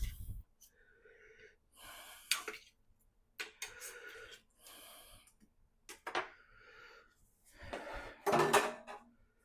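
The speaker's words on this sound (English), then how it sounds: "Now I'm just using the back side of a knife to slide these off." Back of a knife sliding chunks of grilled lamb kabob off a metal skewer, a series of short scraping and clinking bursts with pauses between them, close and fairly quiet.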